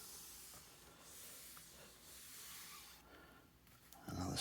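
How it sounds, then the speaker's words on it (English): A vinyl record gets a quick dusting after being flipped over, giving a soft steady brushing hiss that runs almost throughout, close and fairly quiet, followed by a brief handling bump at the end. "Give it a quick dusting."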